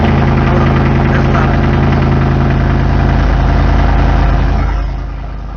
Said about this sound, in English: somebody was starting up their car.